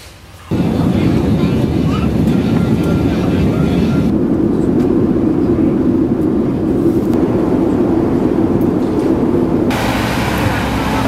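Loud, steady roar of an airplane at an airport, a broad continuous engine rumble that starts abruptly and holds constant throughout, with faint background voices mixed in.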